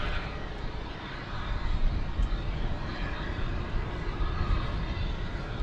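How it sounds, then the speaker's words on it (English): A Turkish Airlines Dreamliner departing DFW Airport at night and banking east, its engine roar a steady, fairly distant broadband rumble with no talk. "this is making the big turn over to the east side of the airport, so long, Turkish Dreamliner."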